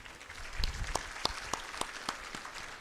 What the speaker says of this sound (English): I think we need to give them a big clap